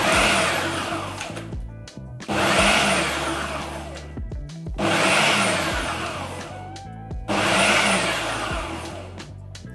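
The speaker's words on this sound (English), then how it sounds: "So in your food processor, you just put it on the chop settings." Food processor on its chop setting, chopping vegetables with herbs in four loud, close bursts of whirring blades, each a couple of seconds long and separated by brief pauses.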